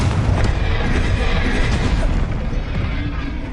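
Spells cast in the Hogwarts Legacy video game, Expelliarmus and Confringo, burst out as loud, booming blasts with a rumbling explosive impact that fills the whole moment and slowly eases off.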